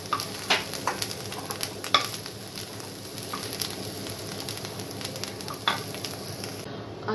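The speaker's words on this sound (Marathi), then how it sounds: "कारली भाजताना ती आपल्याला सतत परतायची आहे" Bitter gourd is roasted and stirred continuously in a pan over a gas flame, with a steady crackling sizzle and repeated sharp scrapes and taps of the spatula, loud and close, with no talking.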